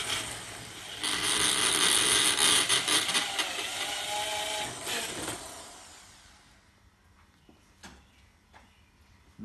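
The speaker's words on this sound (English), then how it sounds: "when you're drilling stainless steel, it needs a lot more pressure and a lot slower speed than mild steel" A drill grinds and whirs into stainless steel, through a hole already threaded, with creaky scraping, loud at first, then fading to quiet with a few sharp clicks.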